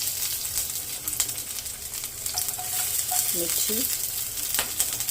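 Onions and chillies fry in oil in a thick-bottomed pan, a steady close sizzle with scraping toss sounds, under a brief spoken word.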